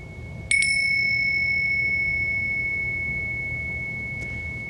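A bell is struck once, then its clear ringing tone sustains and slowly fades, with a second soft tap near the end.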